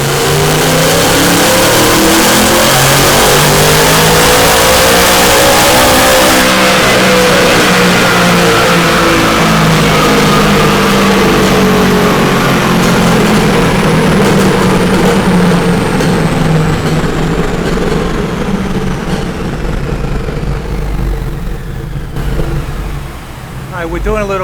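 Supercharged 2019 Ford Mustang 5.0 V8 with a chiller, running a full dyno pull: loud, sustained engine roar climbing steadily in pitch through the rev range for about twenty seconds before backing off, with voices talking faintly underneath.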